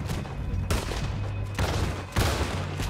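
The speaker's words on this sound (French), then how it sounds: "Ah merde, ça tire!" Loud bursts of gunfire in Red Dead Redemption 2, three dense volleys of shots breaking out one after another at close range over a low droning game background.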